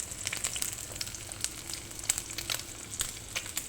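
Onion paste and whole spices sautéing in a pan, a close, continuous bright sizzle and crackle with soft stirring scrapes, no voices.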